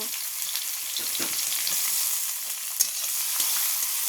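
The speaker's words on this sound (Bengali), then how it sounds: "এখন ভালো করে নাড়াচাড়া করে একটু ভেজে নেব" Chopped onions and crushed garlic sizzle steadily in hot oil, with soft scraping stir strokes mixed into the continuous close frying hiss.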